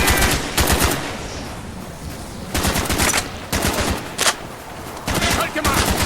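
Rapid automatic gunfire from the Call of Duty: Black Ops video game comes in several loud, close bursts separated by brief lulls, with soldier voices calling out between the volleys.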